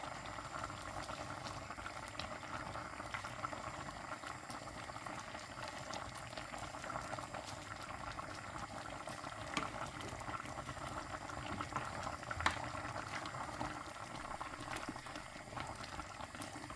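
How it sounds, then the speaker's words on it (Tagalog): A pot of spinach dish bubbles at a steady rolling boil, soft continuous gurgling and popping, fairly quiet and close, with no talking. "Kumukulo na siya."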